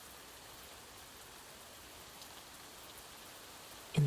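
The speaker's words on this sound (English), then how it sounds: "allow the gentle patter of rain to lull you into a state of tranquil" Gentle rain patters steadily and softly in an even, unbroken wash of fine drops, quiet and alone, ending with a brief louder bump.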